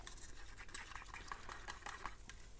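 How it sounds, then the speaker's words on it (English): Sienna acrylic pouring paint mixed with silicone is stirred in a cup, making faint, soft scraping and tapping strokes in a quick irregular rhythm against a low background hum. "I can still see the silicone in that one, so I'll have to stir that one again"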